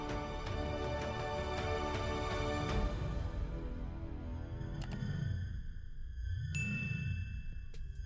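Chiming notification bell sound effect used in a subscribe prompt, a few bright dings ringing out over a sustained musical bed, loud and clean with no talk.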